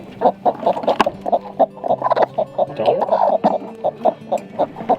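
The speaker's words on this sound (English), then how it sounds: "She's a crazy chicken." A broody hen clucks repeatedly in short, loud, close bursts with an agitated, irregular rhythm, continuing without a break for several seconds.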